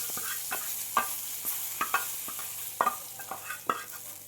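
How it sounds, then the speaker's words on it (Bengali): Hot tadka tempering poured into dal, sizzling close up with sharp spoon clinks and scraping stirs against the pot at irregular intervals, no talking. "এবার তড়কাটা আমি ডালের মধ্যে দিয়ে দিলাম"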